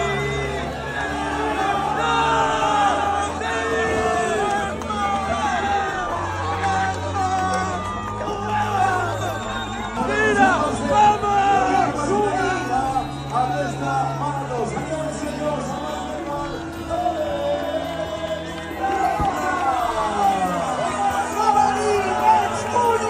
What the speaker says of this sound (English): capturing the crowd's cheers as he worked down the final stretch of the Barcelona